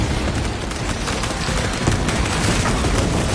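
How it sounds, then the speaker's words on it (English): A crack grenade detonating in a Warhammer 40k video game, a dense, loud, sustained roar of blast noise and crackling debris filling the whole moment, with no voices. "Crack grenade deployed"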